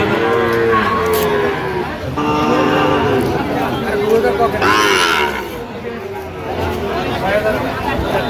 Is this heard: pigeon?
no